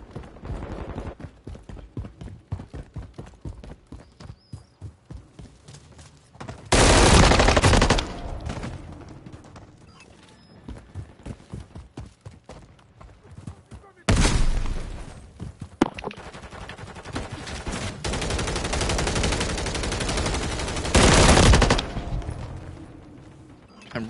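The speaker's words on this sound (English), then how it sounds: "Oh, they got a sentry turret over there." Bursts of automatic gunfire from a sentry turret in the video game Modern Warfare III Zombies, with several long, loud sustained volleys separated by stretches of quieter rattling shots and in-game clatter.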